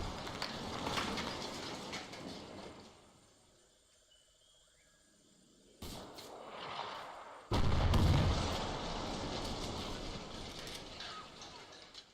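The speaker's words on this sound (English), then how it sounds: "I'm engaging the mortar, which I've just seen, and oh, yep, look, he's firing now" Mortar fire and gunfire in a Vietnam-set military video game with ASR, Vcom and realistic damage mods: dense, rumbling gunfire that fades to near quiet, then a sudden sharp burst followed by a loud, heavy blast and sustained battle noise.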